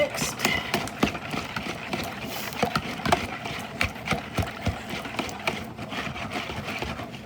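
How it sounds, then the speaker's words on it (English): Batter is whisked until evenly mixed, giving a steady run of fast, rhythmic scraping clicks against the bowl, close and moderately quiet. "Whisk away. Make sure it's evenly"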